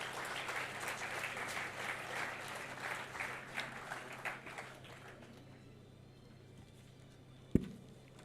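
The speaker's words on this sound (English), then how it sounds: "I request all of you to give a huge round of applause for our guests." An audience at a university National Science Day celebration applauds the guests, a full burst of clapping that gradually thins and fades into room quiet, followed by a single sharp knock near the end.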